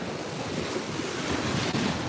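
Ocean waves wash in at the water's edge on a beach, a continuous broad surf roar with gusty wind buffeting the microphone, close and steady throughout.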